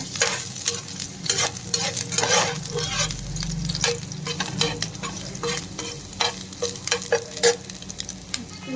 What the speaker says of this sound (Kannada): ನೆಕ್ಸ್ಟು ಶುಂಠಿ ಬೆಳ್ಳುಳ್ಳಿ ಹಾಕೊಳ್ತಿದ್ದೀನಿ ಮೊದಲಿಗೆ. ಅದು ಸ್ವಲ್ಪ ಫ್ರೈ ಆಗಲಿ 1-2 ನಿಮಿಷ.